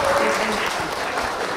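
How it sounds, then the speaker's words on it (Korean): Loud crowd clapping at a child's first birthday party, dense and continuous, with a voice briefly heard beneath it at the start. "방금 여러분들이 치신 박수"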